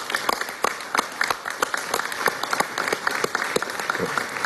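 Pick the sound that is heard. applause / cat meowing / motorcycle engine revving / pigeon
applause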